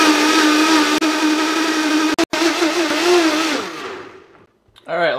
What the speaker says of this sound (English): we're gonna throw it on a high power blender. I use a Vitamix because it's so powerful.